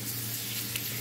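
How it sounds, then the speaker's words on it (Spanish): Garlic browning in hot oil in a pan, a steady soft sizzle heard up close with no talking. "Primeramente lo vamos a dorar un poquito los ajos."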